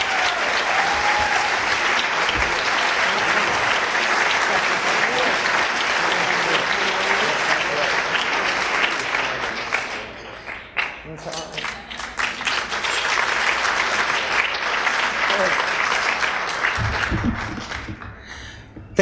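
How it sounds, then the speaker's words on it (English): Sustained applause from an audience at the 2003 National Book Awards ceremony, a dense steady wash of clapping that dips briefly midway, then swells again before fading near the end. "Thank you for the applause"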